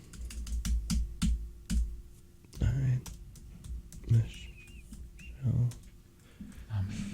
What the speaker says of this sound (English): It's like you're typing a novel.